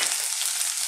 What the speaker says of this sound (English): I'm going to start off by dropping in our galangal and our ginger.